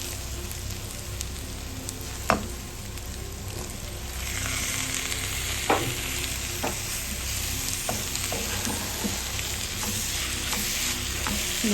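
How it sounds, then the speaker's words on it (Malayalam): Tomato frying with pepper powder and green chilli for a mutton head roast, a steady bright sizzle in a pan broken by occasional scraping stirs and clinks of a spoon, close and continuous. "അതിലേക്ക് ഇനി നമ്മൾ തക്കാളി ഇട്ട് കൊടുക്കുക"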